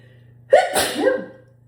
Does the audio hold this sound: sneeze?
yes